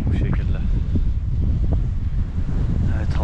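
Strong winter wind at a snowy mountain camp on Uludağ, blowing as a steady loud roar with gusty buffeting against the microphone throughout, with no clear voices.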